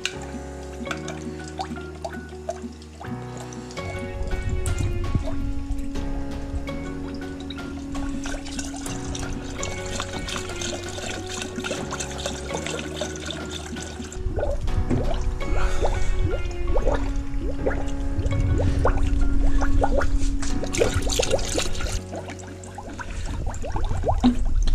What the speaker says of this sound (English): it's bubbling a little more than I thought. It's gonna get everywhere.